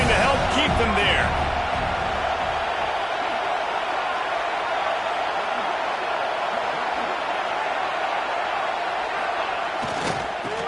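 A football stadium crowd roars continuously, a dense loud wall of cheering with a commentator talking over it.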